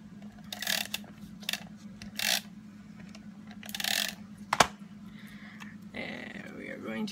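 A Teresa Collins Mega Runner tape runner lays adhesive tape onto paper for a card, giving several short rasping, ratcheting bursts spaced a second or so apart over a steady low hum.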